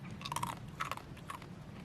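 Crunchy dehydrated bananas being chewed out in the woods, three distinct crisp bites and crunches spaced about half a second apart, close to the microphone and fairly quiet, with no talk.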